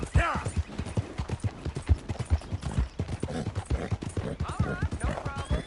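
A horse's hooves clip-clop in a steady walking rhythm in the video game Red Dead Redemption 2, close and clear, with a voice talking over them and brief other game sounds.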